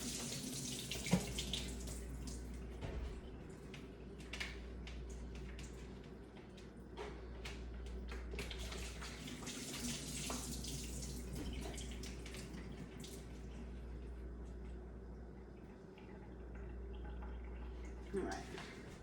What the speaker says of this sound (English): I'm just rinsing the sink out real quick with the tap water.